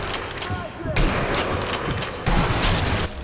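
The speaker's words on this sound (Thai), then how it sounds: "เก็บระเบิดมาแล้วยิงเลยนะยิงยิงยิงยิง" Gunfire and explosive bursts in the video game Sniper Elite, with several loud, sharp blasts and rattling shots in uneven clusters while a player talks excitedly over the action.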